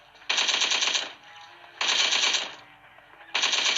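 Automatic gunfire in a shooter video game, three loud sustained bursts of rapid shots separated by short pauses, close and alone.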